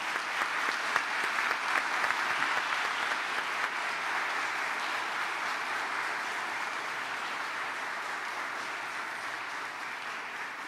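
Applause from a church congregation for first communicants at a Holy Communion Mass, a sustained even clapping across the room that starts strong and slowly eases without dying away.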